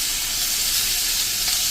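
Apple-free Indian tempering: hing, a dried red chili, curry leaves and green garlic dropped into hot oil for spinach-pea khichdi, giving a steady, close, loud sizzle with no voices.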